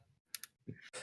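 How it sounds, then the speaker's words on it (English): Several crisp clicks in a quick pair, then a few softer ones, heard between faint murmurs during an online Magic: The Gathering Commander game. "Hear the clicking."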